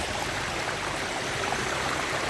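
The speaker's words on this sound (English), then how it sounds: "We are here in this beautiful waterfalls." A cold-water waterfall along the Kumara Parvata trek gives a steady, dense rush of running water, close and continuous with no voices.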